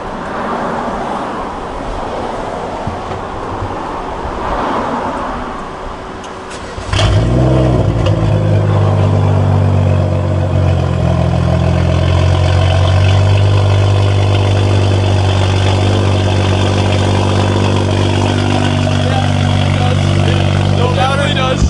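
A BMW 535i with an Active Autowerke tune, parked on a driveway, starts with a loud engine catch, then idles and revs, its exhaust droning close and steady throughout, with no voices over it.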